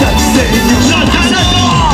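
A church congregation shouts and cheers for joy during a live worship service, a loud, sustained crowd roar with overlapping voices and yells.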